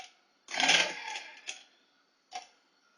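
Marchant and Monroe mechanical calculators, including a Monroe CSA 10, grind through automatic division of 355 by 113 in a burst of whirring, clattering mechanism, followed by a couple of short sharp clunks as carriages shift.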